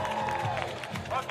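Crowd at the Versailles Nautical Facility during Paris 2024 para canoe semifinals: a steady wash of spectator murmur and light cheering, with a commentator talking over it.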